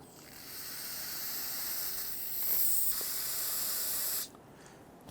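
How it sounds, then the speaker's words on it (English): A steady aerosol solvent spray hisses continuously for several seconds, close by, during rear brake work on a Nissan Frontier pickup, then cuts off abruptly. "Spray some solvent in there."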